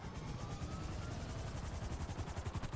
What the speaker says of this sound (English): There's a helicopter already up there.